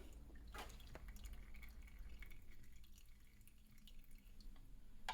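Steady trickling and dripping water drains continuously from an espresso machine with a faulty pump, close by, with a low machine hum underneath and occasional small clicks.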